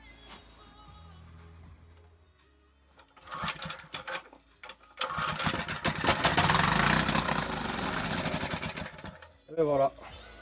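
A Briggs & Stratton small engine sputters through a few short start attempts, then catches and runs with a loud, steady buzzing drone for several seconds before cutting off, with a brief voice at the very end.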